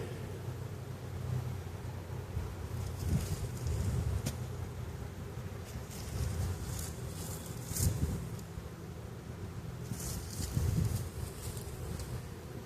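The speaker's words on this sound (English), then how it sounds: "Got bees over here with their Nasonoff glands going." Honeybees buzz around a hive box while a new package is installed, a soft, steady hum of many insects close by that swells briefly a few times, with no talking.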